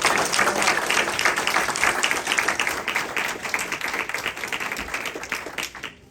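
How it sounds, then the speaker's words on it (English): Dense, sustained applause from the audience at a Belmar, New Jersey school board meeting honoring students, loud and steady at first, then thinning into scattered claps toward the end. "one more round of applause for our students and their hard work"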